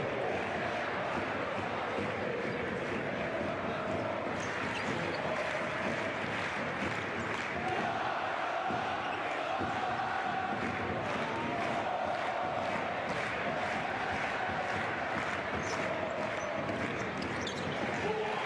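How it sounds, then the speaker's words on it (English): A basketball arena crowd applauds a player leaving the game in a Basketball Champions League match between Hapoel Jerusalem and Telenet Giants Antwerp, a steady distant wash of clapping and crowd noise with ball bounces and a commentator talking over it. "Feldine hears the applause as he goes out of the game."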